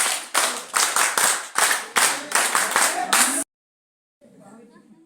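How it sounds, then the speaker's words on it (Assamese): An audience at a teachers' conference performs a rocket clap. About three seconds of loud, rhythmic, accelerating hand claps in quick bursts end abruptly, followed by a brief silence and then faint voices. "ৰকেট তালি ক্ৰু"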